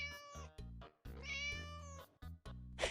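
A big short-legged tabby cat meows close and clear, with several drawn-out, tonal meows of varying length and short pauses between them, and no other sound behind.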